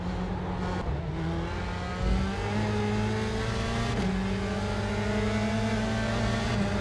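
A USF 2000 open-wheel race car engine in the iRacing simulator at Lime Rock Park, droning steadily and revving through gear changes with a constant, close engine tone and no talk.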